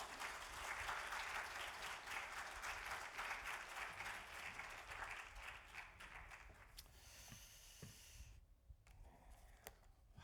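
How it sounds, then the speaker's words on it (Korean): A church congregation applauds to welcome a pastor at a Sunday service, sustained and fairly distant, fading over several seconds with a few scattered claps at the end. "우리 목사님 나오실 때 박수로 같이 환영하시겠습니다"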